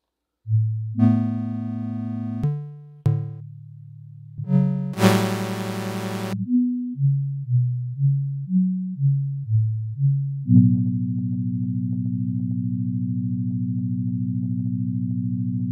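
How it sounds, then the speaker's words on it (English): Synthesizer tones step through a series of notes, moving from low sustained pitches to a quick run of short repeated notes, ending on a long held chord. "this arpeggio itself doesn't sound too bad, right?"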